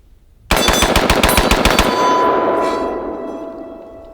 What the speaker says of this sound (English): All right, 10 rounds as fast as I can.